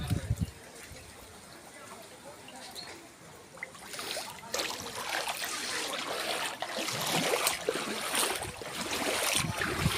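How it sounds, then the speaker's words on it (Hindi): Floodwater rushes through waterlogged streets of Vithalgadh, Lakhtar, after heavy Cyclone Biparjoy rain, a steady broadband wash that swells louder midway, with scattered splashes and a voice talking at the start. "लखतर के विठलगढ़ में बारिश के चलते भारी जलभराव देखने मिल रहा है।"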